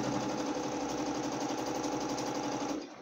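A domestic sewing machine backstitches patchwork fabric with a rapid, even mechanical whir and needle chatter, running steadily and close before stopping abruptly at the end.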